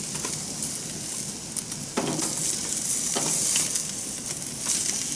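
Steaks frying in a pan at a cabin, a steady loud sizzle and crackle with occasional sharper pops throughout, no voices.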